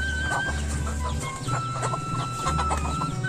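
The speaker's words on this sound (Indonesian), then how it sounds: "Ayam-ayamnya" Many chickens cluck and chatter together close by in a village kitchen preparing a wedding feast in Cihanjuang, Garut, Indonesia; a busy, continuous flock sound over a low background hum.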